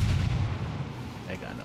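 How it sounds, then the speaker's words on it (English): Grenade blast in the shooter game Ghost Recon Wildlands, one heavy low boom at the start that rumbles and fades over about a second. "I'm gonna chuck a grenade over there."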